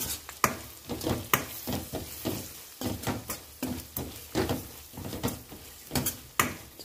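Bisi bele bath spice powder frying in oil in a pan, stirred with rhythmic scraping strokes over a soft sizzle, each stroke sharp and close.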